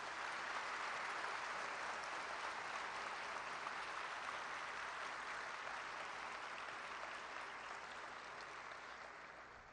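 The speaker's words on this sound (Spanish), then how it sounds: "un aplauso por ese discurso" Sustained applause from a large audience at a military officers' graduation ceremony, a dense, even clatter of many hands that holds steady for about ten seconds, then begins to fade slightly toward the end.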